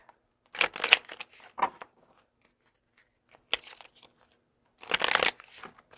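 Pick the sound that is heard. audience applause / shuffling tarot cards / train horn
shuffling tarot cards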